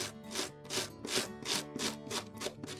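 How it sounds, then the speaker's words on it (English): A small wire brush scrubs the pins of a turkey fan feather to work out grease, giving about eight rhythmic, raspy back-and-forth strokes at close range with no talk. "I like to take a small wire brush, and you can just brush the pins in any direction"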